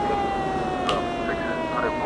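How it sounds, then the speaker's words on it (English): A steady electronic police siren wails at a constant pitch, loud and close, with a synthetic tone and faint background noise, from the 1971 film Dirty Harry. "Why does that siren sound so synthy, you know?"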